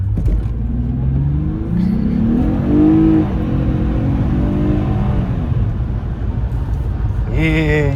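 A 2006 Acura TL revs hard and launches on snow, its engine climbing in pitch as the wheels spin with little grip. The engine stays loud and close throughout, with people talking over it.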